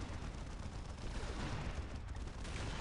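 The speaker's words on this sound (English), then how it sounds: "As soon as we don't have just a billion gunshots happening." Massed gunfire in the Warhammer 40,000 game Dawn of War with the Unification mod rattles on as a dense, continuous wall of distant battle noise with no breaks.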